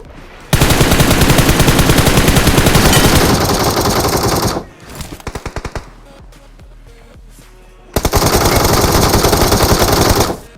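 Automatic gunfire in a BGMI battle royale fight: two long, loud, rapid bursts with scattered single shots between them.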